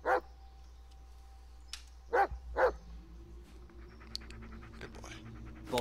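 A dog in the Blair Witch video game barks three times in short, loud, close yaps, then panting and small whines follow over low ambient game sound.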